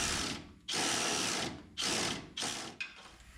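Small power tool tightening a tiny clamp bolt on a truck's wastegate, four short whirring bursts with brief pauses between, each one shorter than the last, close and fairly quiet.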